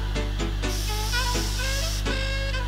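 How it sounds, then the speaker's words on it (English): A few quick hissing bursts of fine mist from an Avène facial water spray, spaced irregularly, close by, with soft music playing steadily underneath. "I'm gonna spray my face with the Avian water spray."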